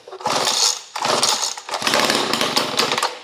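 Vintage handheld gas engine equipment starting on high throttle with the choke pulled out, roaring to life in loud, raspy bursts, briefly dipping twice before running steadily, close by.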